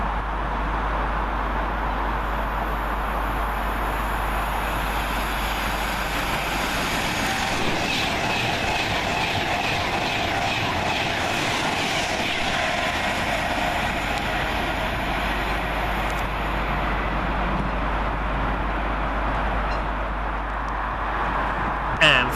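A Class 390 Pendolino electric train on a Glasgow Central to London Euston service speeds through Milton Keynes Central station, a steady loud rushing rumble with rail clatter sustained for over twenty seconds.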